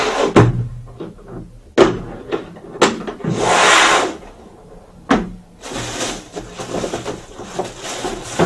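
Several sharp plastic clicks as latches snap open on a Zubr ZP-32-1100 K rotary hammer case, followed by a hollow scraping rustle as the lid is lifted and handled.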